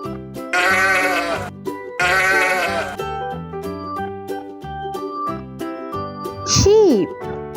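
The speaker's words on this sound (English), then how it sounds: "Sheep." Sheep bleat in short wavering calls, several distinct bleats spaced through the passage at close range, with a jingling toy-like tone and a brief rising squeak near the end.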